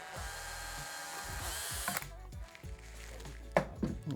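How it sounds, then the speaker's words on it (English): A power drill drives screws into wood while fitting out a VW Crafter van conversion, with bursts of motor whine, a ratcheting clutch chatter and short pauses between runs, close and fairly loud with no talk. "I just need to waz some screws in at a random spot"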